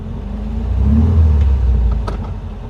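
A 1968 VW Type 3 Squareback with an 1835cc engine runs steadily nearby with a low rumble, rising slightly in the middle, with a couple of faint clicks near the end.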